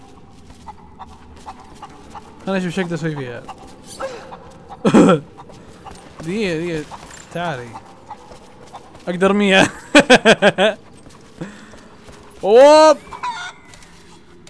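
Chickens in a video game cluck and crow in scattered loud bursts, some in quick rapid runs, while people talk and chatter over them.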